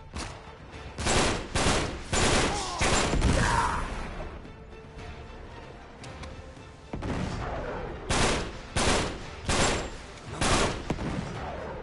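Gunfire in Uncharted 3 as shotgun-wielding enemies attack, loud clustered bursts of repeated blasts in two volleys separated by a quieter stretch, close and dense.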